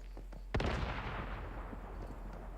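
A video game grenade bursts with one sharp, loud blast, and a rumbling, crackling decay trails off over the next two seconds.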